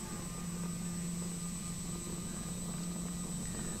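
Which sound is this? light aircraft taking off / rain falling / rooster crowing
light aircraft taking off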